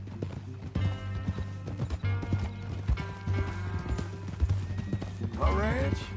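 Rhythmic horse hoofbeats in Red Dead Redemption clip-clop along with a brief whinny near the end, under a steady low musical drone and voices talking.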